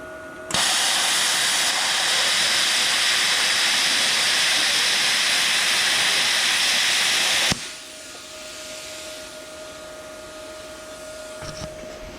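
A Yes Welder CUT-65DS plasma cutter slices through metal with a loud, steady broadband hiss and roar for about seven seconds, then cuts off abruptly, leaving a fainter hissing of air pressure and a quiet hum.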